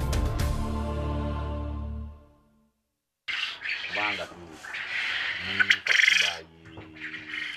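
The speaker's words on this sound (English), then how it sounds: "Those are male quail birds reacting to our invasion of their territory." Male quail birds on a farm give harsh, squawking calls after a fading ringing tone and a brief silence, several loud bursts crowding together close by.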